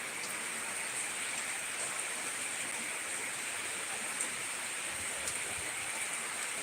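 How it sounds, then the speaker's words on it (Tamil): Steady rain falls outside a window in a hometown downpour, a constant even hiss with a few brighter drop ticks throughout, no voices. "நாங்கள் ஜன்னல்லேருந்து பார்த்து ரசிக்கிறோம். வா மழை சூப்பர் நைஸ்."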